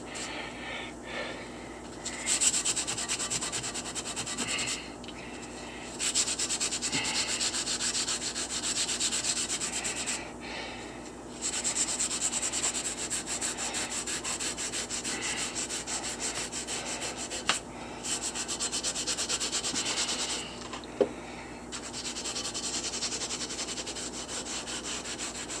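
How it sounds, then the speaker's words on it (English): A sponge is scrubbed hard back and forth over a slab of very hard fossil-bearing rock from Lebanon, giving a steady, close abrasive rubbing in long bursts separated by short pauses. "take my trusty sponge here, which I'm showing you. And give that a good scrubbing"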